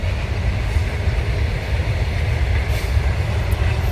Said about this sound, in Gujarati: જો ટ્રેન આવી ગઈ ભાઈ. આપણે ઇન્ડિયન રેલવે કોલસાની ગાડી છે